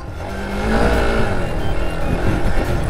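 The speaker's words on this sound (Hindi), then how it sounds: "इंजन का रोर सुन रहे हो ना आप लोग।" An Xpulse 200 4V motorcycle engine roars as it rides through deep sand, a close, loud, rough revving that surges and holds with a gritty churning edge for a few seconds.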